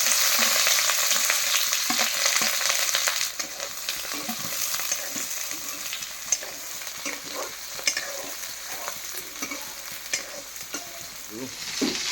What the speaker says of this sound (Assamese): বিলাহীটো আগতে ভাজি লওঁ।